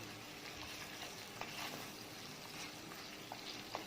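Bitter gourd going into a simmering Thai chicken curry, giving a continuous soft sizzle and bubbling with a few light stirring clicks, close and quiet, with no voices.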